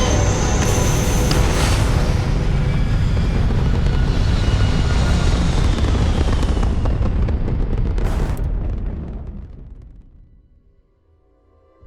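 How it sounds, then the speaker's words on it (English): A spaceship in Starfield launches into orbit with a loud, roaring blast. The broad roar holds steady for about eight seconds, then drops away into near silence as the craft leaves. "Ready for takeoff. 3, 2, 1, go!"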